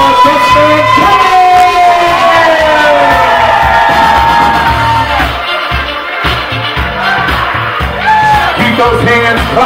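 Wedding reception guests yell, whoop and cheer loudly for the maid of honor and best man as they are introduced, with music playing underneath the crowd noise.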